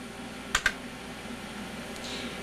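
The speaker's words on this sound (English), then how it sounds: "You ever wonder what that pause button on your keyboard does?" A key is pressed on a computer keyboard, two quick close clicks in a row against a faint steady background hum, then a softer click after a pause.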